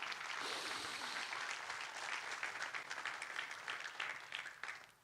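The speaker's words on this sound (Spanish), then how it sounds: "¿Cuántos le pueden dar un fuerte aplauso a Dios por eso?" A church congregation applauds, a faint, steady wash of many hands clapping together without pause, heard from a distance.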